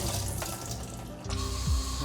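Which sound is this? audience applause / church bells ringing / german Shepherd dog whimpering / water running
water running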